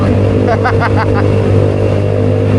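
Loud, close motorcycle engine hum on the road down from Baguio, steady throughout, with a voice briefly speaking over it.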